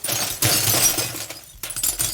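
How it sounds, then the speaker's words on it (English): Glass shattering as a sound effect, a dense burst of breaking glass followed by smaller and larger shards falling and clattering, loud and close, with a brief lull before another scatter of falling pieces. "I have this long audio clip with smaller and larger pieces of glass and stuff falling."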